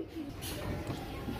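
Pigeons kept by a fancier coo softly in a short, low, murmuring burst, with faint background noise and no speech.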